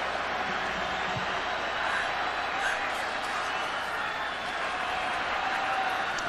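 Crowd at an Alabama home stadium during a 2003 college football game against Oklahoma, a steady distant roar of many voices filling the whole span, with a commentator's voice faintly under it.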